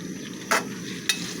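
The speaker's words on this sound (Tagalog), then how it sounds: "Haluin lang natin." A spoon stirs kaldereta in a cooking pan, with two brief scraping strokes over a steady near sizzle of frying.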